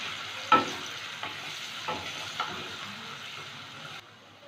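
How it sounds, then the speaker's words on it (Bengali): Chopped onions fry in a pan for a chicken and potato curry, giving a soft continuous sizzle broken by a few distinct scraping stirs of a spatula, no talk. "পেঁয়াজটা ভেজে নেব"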